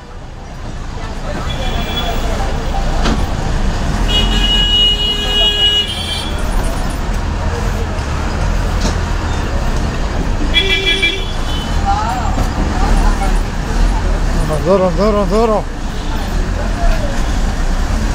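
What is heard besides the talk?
bus ride from Tenali to Chinapulivarru with horns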